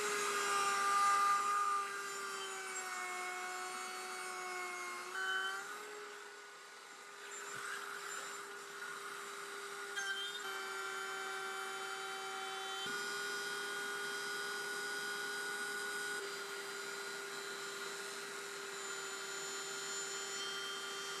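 A router in a router sled takes shallow wood cuts, giving a steady high whine that holds throughout at a moderate level with small dips in pitch as the bit loads, no voices present.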